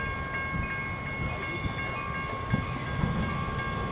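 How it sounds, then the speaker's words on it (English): A Metra commuter train rumbles into a station in Downers Grove, Illinois, with a low steady roar, faint clicks and squeals over the noise, and a sustained tonal whine throughout. "The next inbound Metra train to Chicago is now arriving in your station."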